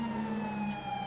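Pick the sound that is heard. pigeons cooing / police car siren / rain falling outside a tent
police car siren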